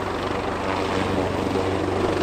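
A search and rescue helicopter hovers low over a ship in a harbour, its rotor producing a steady, loud, continuous thudding whir that fills the whole stretch without a break.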